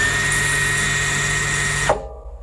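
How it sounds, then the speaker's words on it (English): A Juki TL 2020 Platinum Edition sewing machine winds its bobbin with a loud, steady motor whir that cuts off sharply near the end and winds down to quiet. "So that's engaging the bobbin winder"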